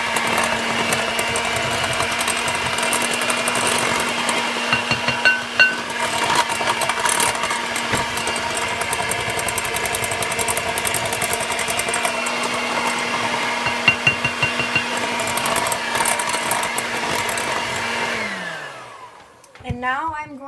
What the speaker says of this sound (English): And I'm going to also do that with my electric mixer.